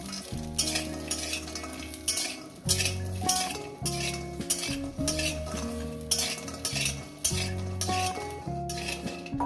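Lentil dumplings (bori) fry in a little oil in a pan, with a soft sizzle under repeated rhythmic scraping and clinking of a spatula stirring them, plus a steady tonal hum in the background.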